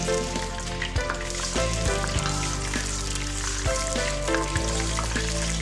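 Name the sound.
garlic and ginger sizzling in hot oil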